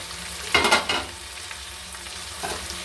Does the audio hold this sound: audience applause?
no